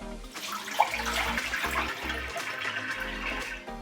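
Water gurgling and rushing steadily as excess water drains from a De'Longhi ECAM350 coffee machine during a descale, a continuous close, moderately quiet flow with no talking.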